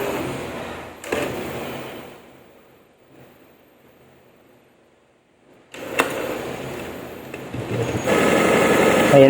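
A Brother MFC-J3540DW inkjet printer pumps ink through its empty ink tubes: short mechanical whirring bursts, a nearly silent stretch, then a louder, sustained motor drone toward the end.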